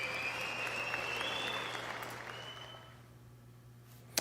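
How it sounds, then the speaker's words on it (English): Recorded applause replayed at a lower level during an audio test: a softer, steady patter of clapping with a faint tone through it, trailing off into near quiet before a short click at the end. "She said that the clapping was a little loud"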